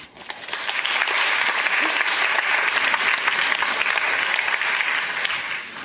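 An audience claps loudly and steadily for several seconds, a dense wash of applause that fades slightly at the end.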